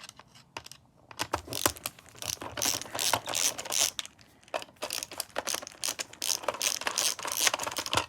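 Screws are being worked out of a dusty Star Fox retro game cartridge, making close, quick ratcheting clicks and small plastic ticks in uneven bursts, with no voices.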